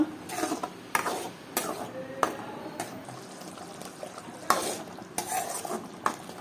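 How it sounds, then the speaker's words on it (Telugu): Tomatoes cooking down for chutney in a pan are stirred with a spoon: repeated close scraping strokes over a soft sizzle, in an irregular rhythm of about ten strokes. "టమాటా పచ్చివాసన పోయేంత వరకు మగ్గించుకుందాము."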